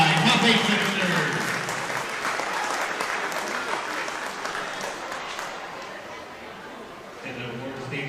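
Sustained applause from a crowd at a swim meet award ceremony honoring 14-and-under boys in the 100-yard butterfly, steady dense clapping that fades slightly before a brief swell near the end, with faint chatter underneath.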